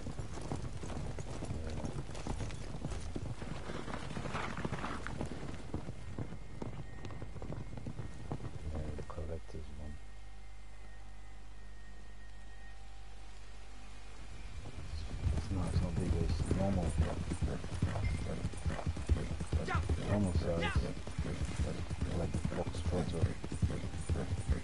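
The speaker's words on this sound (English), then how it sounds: "I bought the collector's horse." Horse hooves clip-clopping at a steady gallop in Red Dead Redemption 2 Online, a collector's horse, with voices talking over much of it and a brief quieter stretch in the middle.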